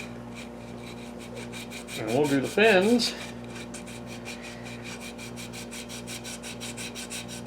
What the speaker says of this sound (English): we can do that with a rasp or a file